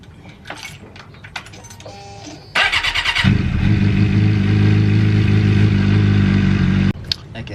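Suzuki GSXR 600 motorcycle engine cranking with faint clicks and clatter, then catching and settling into a loud, steady idle that cuts off abruptly near the end.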